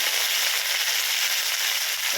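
Dry red chilies and curry leaves crackle in hot oil with cumin and mustard seeds for a tempering, a steady, dense sizzle that holds evenly throughout with no voices.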